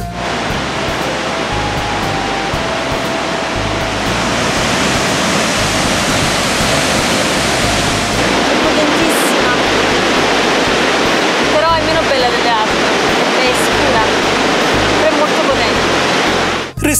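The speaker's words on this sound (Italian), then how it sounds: "giungiamo a quelle che sono considerate le cascate più potenti d'Europa, le quali scorrono grigie ed impetuose in un canyon nel mezzo del deserto" A powerful grey glacial waterfall in Iceland thunders through a desert canyon, a loud, constant broadband roar with wind buffeting, filling the whole stretch without a break.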